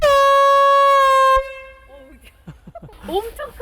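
A loud, steady blast from a boat's air horn lasts over a second and cuts off sharply, followed by people talking nearby.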